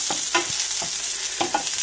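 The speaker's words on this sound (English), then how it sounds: "Frying off a little bit of my onion portion." Onion sizzles steadily in hot oil while a utensil scrapes and stirs the pan in short, irregular strokes.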